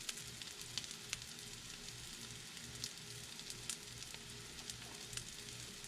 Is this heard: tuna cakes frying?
yes